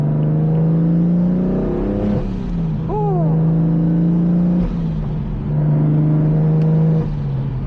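Single-turbo BMW M3 accelerating hard from the driver's seat: a loud, steady engine drone rising in pitch, broken by quick gear shifts, with no talk.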